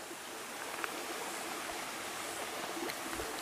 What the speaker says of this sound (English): Creek is running today,